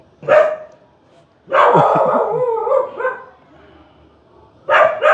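A house dog barks close and loud in three separate bursts: a quick single bark, a longer run of barking, then another sharp bark at the end. A person's voice can be heard around the barking.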